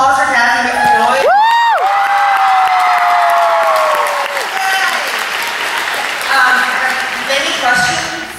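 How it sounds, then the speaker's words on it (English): A crowd at a book-tour event in Philadelphia loudly applauds and cheers for Kathy, with a sustained whistle-like whoop early on and clapping that persists throughout, swelling again near the end. "Can we get some more applause for Kathy? Make some noise."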